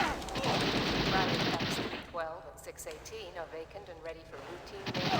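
Dense gunfire from a 3DO video game opens the clip, then gives way to scattered shots and game sounds while people talk over them.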